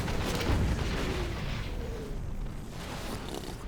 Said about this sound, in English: The artillery is taking out the Gatling cannon